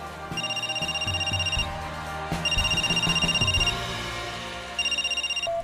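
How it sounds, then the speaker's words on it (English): A mobile phone rings with a bright electronic ringtone, repeating trilling bursts in three rounds separated by short pauses, loud and close over a low background hum. "he was shaken out of his thoughts by the sound of his phone"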